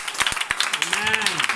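Church congregation clapping in acclamation to the Lord during a French-language worship service, sharp hand claps mixed with shouts and a rising voice.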